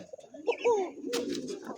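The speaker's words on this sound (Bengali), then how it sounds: "দেন কবুতরের ডাক একে দেখেন" A domestic pigeon of an almond-coloured fancy breed coos a few short, soft calls close by, with faint rustling and background noise around it.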